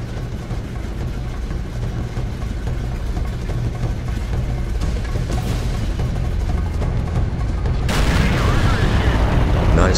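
A Nashorn tank destroyer's gun fires in World of Tanks: a sudden loud blast near the end, over a steady low engine rumble and constant battle noise.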